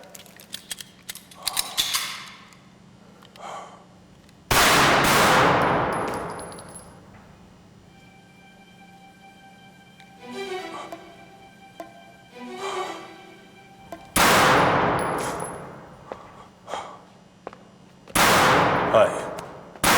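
Guns fire on a range firing line in loud single sharp cracks, several shots spaced seconds apart, with mechanical clicks and clanks of handling between them and faint background noise.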